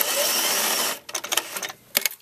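A sewing machine runs a seam on knit fabric in one continuous, fast, buzzing stitch burst for about a second. Short, choppy stitching pulses and clicks follow, close up and fairly loud.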